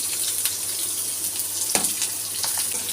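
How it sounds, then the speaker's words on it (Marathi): Steady hissing sizzle of finely chopped onion frying in oil in a pan, with scattered light crackles and one sharper clatter midway, no voices. "त्याला तेलामध्ये परतून घ्यायचं आहे"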